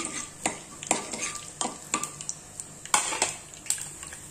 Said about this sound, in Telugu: ఇప్పుడు దీంట్లో జీలకర్ర, ఆవాలు వేసుకోవాలి. ఇవి కొంచెం చిటపట వాడాలి.